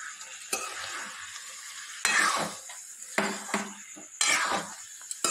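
Dishes, pots and utensils clink and scrape while jackfruit masala is served, a few sharp clatters and stirring scrapes coming in bursts close by, with no talking.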